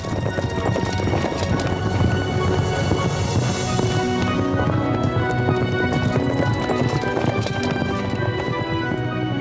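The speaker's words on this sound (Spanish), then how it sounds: "¡Los caballos!" Horses' hooves clip-clop steadily and close up, a busy rhythmic clatter of several animals moving together that runs the whole way through, loud and unbroken.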